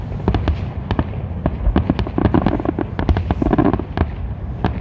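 Victoria Day fireworks over Toronto fire a dense, irregular volley of sharp cracks and booms for several seconds, crackling bursts overlapping one another above a continuous crowd murmur.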